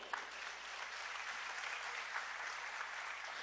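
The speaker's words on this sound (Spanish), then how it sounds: "Denle un fuerte aplauso al Señor." A church congregation applauds during a sermon with steady, even clapping from many hands, heard faint and somewhat distant in a large room.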